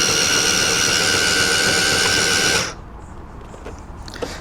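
A rechargeable pool vacuum runs with a loud, steady motor whine and hum for about two and a half seconds, then shuts off abruptly, leaving only faint background noise and a few small clicks.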